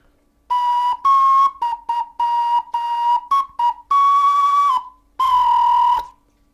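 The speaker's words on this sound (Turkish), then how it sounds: "Bakın bir tane cevizden flütüm var benim." A small walnut-shell flute blown close up in a string of short and longer breathy whistled notes, mostly one pitch with slight bends, separated by brief pauses and ending on a sustained tone.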